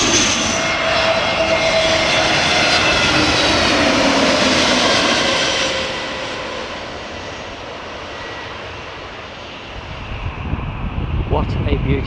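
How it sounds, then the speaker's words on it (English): A fixed-wing airliner roars loudly near Nai Yang Beach by Phuket airport, a broad sustained engine wash that holds strong for several seconds, then eases to a softer steady rumble as the aircraft pulls away. "there you can see another plane just about to get ready to take off"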